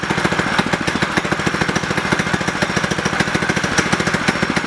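A Predator 212cc go-kart engine idling with its stock muffler, a loud, close, steady rapid chugging pulse with an even rhythm that holds unchanged from start to finish.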